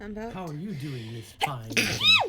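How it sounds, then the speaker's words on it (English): A single loud, close sneeze bursts out between bits of casual chatter during Dragon Age gameplay, with people talking just before and after it. "I'm sneezing."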